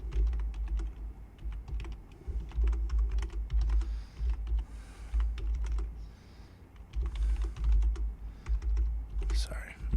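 Typing on a computer keyboard close by, with irregular bursts of clicking keystrokes and brief pauses, under a low background hum and occasional soft speech.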